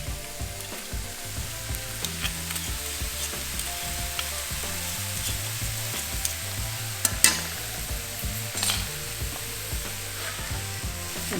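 Garlic sizzling in a hot pan with sautéed wild mushrooms, a steady close crackle and hiss with occasional spatters and stirring scrapes, no voices over it.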